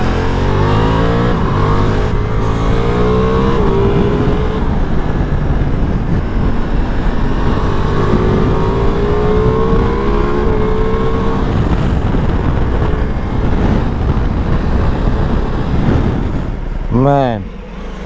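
A Ducati Multistrada V4 Pikes Peak motorcycle accelerates loudly and steadily while riding, its engine note rising through the gears with wind rush, then easing off near the end.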